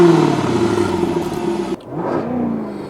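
A 2024 Jaguar F-Type R75 V8 engine revs with a deep, throaty roar, then cuts off abruptly before rising again into a lower, rumbling idle.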